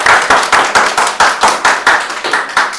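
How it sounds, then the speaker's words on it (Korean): Students in a Korean high school math class clap their hands together in a loud, steady rhythm, about four claps per second, close and alone with no talking. "우리도 박수 칠까?"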